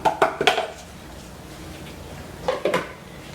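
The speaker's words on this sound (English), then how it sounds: "we're going to mix basically the dry ingredients together" A whisk or spoon clinks and scrapes against a bowl while flour and sugar are mixed for a chocolate cake, in two short bursts of quick rattling strokes close by with a quiet pause between.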